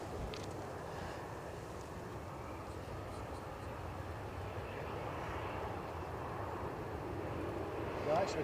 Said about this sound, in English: So there's our Aegean departure, shortly to go to Athens.